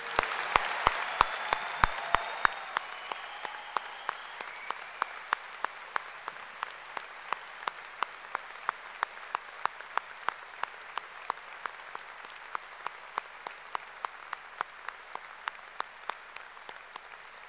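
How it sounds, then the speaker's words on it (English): Long, sustained applause from the audience at a university graduation ceremony honouring the Chancellor, an even roar of clapping that carries on steadily, with sharp regular clicks standing out on top. "I noticed Sue Black was applauding with particular relish on that occasion."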